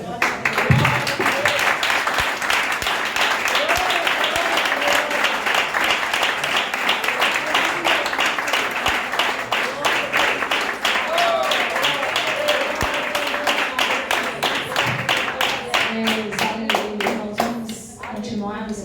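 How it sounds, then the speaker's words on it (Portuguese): Church congregation applauding together at a worship service, with dense, sustained clapping mixed with voices and occasional vocal exclamations, steady throughout before tapering near the end. "Obrigada pelas palmas"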